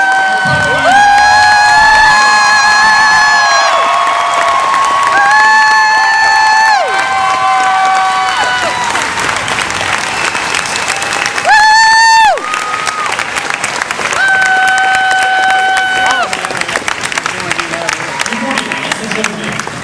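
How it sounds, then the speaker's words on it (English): A large crowd at a Marine Corps Family Day cheers, whoops and applauds for the newest Marines, loud and sustained, with high shouts and whistles rising above continuous clapping throughout. "We ask that you please hold your applause until all the platoons are in place."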